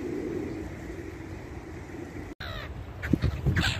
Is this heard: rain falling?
no